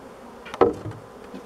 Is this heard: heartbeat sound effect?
no